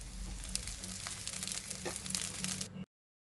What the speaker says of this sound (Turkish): tavanın üzerine hazırlamış olduğum tostlarımı koyuyorum